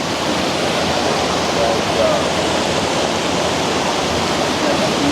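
Loud, steady rush of a swollen river after a storm, Robin's River, a broad continuous roar of churning water filling the whole stretch without a break.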